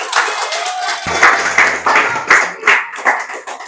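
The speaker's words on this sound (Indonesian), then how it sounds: "Tepuk tangan dulu untuk kelompok 2." Applause for a student group in a classroom: a burst of many hands clapping, loud and close, in uneven rhythmic surges with a few voices mixed in.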